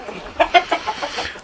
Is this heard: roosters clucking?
yes